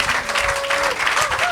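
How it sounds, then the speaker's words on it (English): A large live audience at a Kona breakfast show for a triathlete claps in sustained, dense applause at close range, with a faint voice or tone threading through the steady roar. "how about a huge round of applause"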